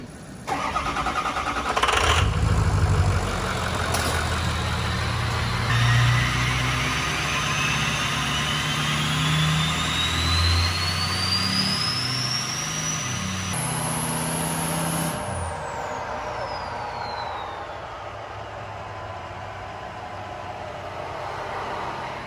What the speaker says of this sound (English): you're gonna go up to speed. When I wave my hand, you're gonna go ahead, put it in neutral, and let the truck coast down